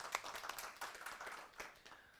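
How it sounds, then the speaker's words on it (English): A small audience at a Sendai Java user group meetup gives scattered hand claps, faint and thin, with several sharp individual slaps standing out over about two seconds. "So give him a round of applause first."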